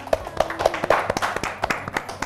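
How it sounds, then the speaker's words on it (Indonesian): A small group claps their hands together in quick, uneven bursts, close and fairly loud, with a faint voice underneath. "Hebat, tepuk tangan dulu dong guys."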